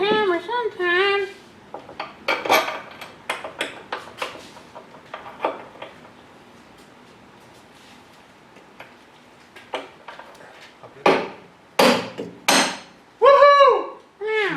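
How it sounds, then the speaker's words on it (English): Sharp metallic hammer strikes from a big red hammer on a Ford 9 inch rear end during an install, several irregular bangs in bursts, near and loud, with some voices heard around them. "I wield a big red hammer sometimes."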